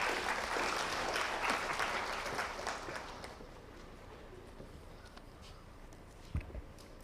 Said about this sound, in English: Can you have a great round of applause for Mr.